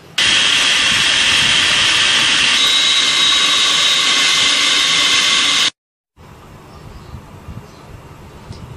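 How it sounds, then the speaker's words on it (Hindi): An electric chopper grinds minced mutton with onion, green chilli paste, coriander and egg, a loud, steady high whirring roar that runs for several seconds, then cuts off abruptly into quiet room noise. "अब इन सारी चीज़ों को चॉपर में डाल के अच्छी तरह से पीस लेंगे।"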